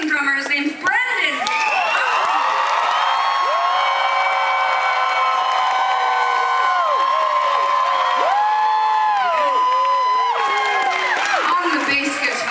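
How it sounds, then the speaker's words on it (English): Festival crowd at an outdoor concert in Regina, cheering for the drummer: loud sustained screams and whoops from many voices in a dense wash, with scattered clapping underneath throughout. "the biggest applause you've ever given in your entire lives to our amazing drummer"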